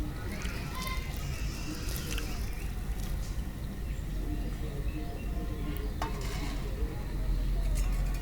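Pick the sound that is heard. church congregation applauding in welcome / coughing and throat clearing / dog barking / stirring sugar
stirring sugar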